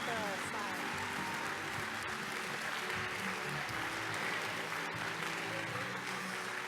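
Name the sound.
audience applause at closing session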